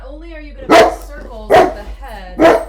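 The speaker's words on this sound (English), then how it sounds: "excuse my dog," A dog barks three times at a steady pace, loud and close, at a truck outside, while a person keeps talking underneath.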